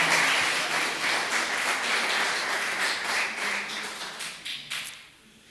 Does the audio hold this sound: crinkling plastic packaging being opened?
no